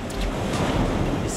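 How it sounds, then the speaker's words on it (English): Sea waves wash onto an eroding shore where the reefs have flattened, a brief roaring surge of surf mixed with gusty wind buffeting the microphone. "So the waves have a greater force when they come in the shore."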